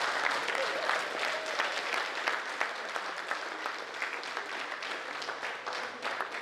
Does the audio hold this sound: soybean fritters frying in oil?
no